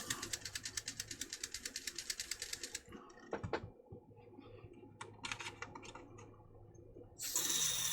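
A rapid mechanical clatter runs for a few seconds, then short hissing bursts of aerosol contact cleaner spray follow into a 1981 Grandstand Astro Wars handheld game, ending in a longer, louder hiss close by.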